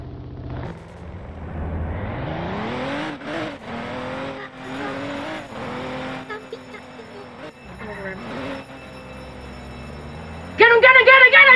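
A car in the Roblox game Liberty County revs and accelerates, its engine tone climbing and dipping through gear-like surges, with people talking over it and a brief brighter squeal near the end.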